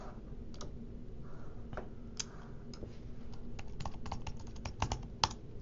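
Fingers type on a computer keyboard, a quiet, close run of irregular light key clicks, bunching into quicker bursts toward the end over faint background hum.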